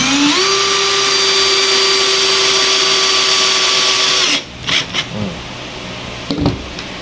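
A corded electric drill runs at a steady high-pitched whine for about four seconds while making a plant pot, then stops, followed by a few scraping and handling knocks.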